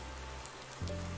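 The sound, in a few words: rain falling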